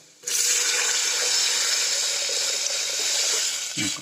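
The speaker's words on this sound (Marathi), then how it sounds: "आता बघा ह्याच्यामध्ये पाणी टाकायला" Water pours steadily in a continuous splashing stream into a container for several seconds, close up, with no talking.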